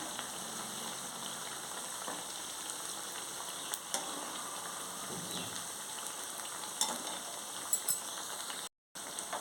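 Semolina vadas deep-fry in hot oil with a steady, dense crackling sizzle, broken by a few soft clinks and a brief dropout near the end.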